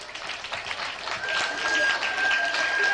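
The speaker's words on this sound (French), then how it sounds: "On peut l'applaudir très fort" A crowd at a 2001 carnival show applauds a performer dressed as a garden gnome, a dense wash of many hands clapping that builds slightly in loudness, with voices mixed in underneath.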